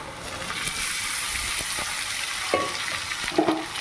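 Boiled black-eyed peas frying in a pan give a soft, steady sizzle with faint stirring, broken by a few small knocks and clatters near the end; close and fairly quiet, with no talking.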